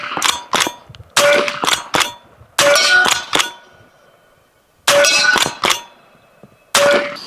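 An AEA air rifle with a Megalodon magazine fires shot after shot at a metal target, each sharp report ringing with a bright clang, arriving in quick clusters separated by short pauses.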